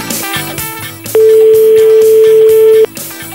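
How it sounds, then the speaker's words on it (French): A mobile phone number being dialed at random for a radio prank call: a steady, loud dial-type tone holds for under two seconds over a busy music bed, with no talk. "nous composons au hasard un numéro de portable"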